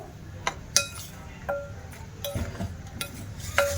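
Flour with a little salt and sugar stirred together in a bowl for ras puli pitha, a few sparse light clinks of a spoon against the bowl over a quiet background.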